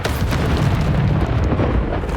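Bombarda explosion spell from Hogwarts Legacy, a loud, dense, continuous roaring blast with deep rumbling body and crackling debris, filling the short moment with no talking.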